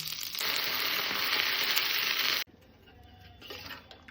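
Dried chillies, curry leaves and ajwain hit hot oil as a rasam tempering, bursting into a loud, dense, close sizzle for about two seconds before it cuts off sharply to a much quieter, softer crackle.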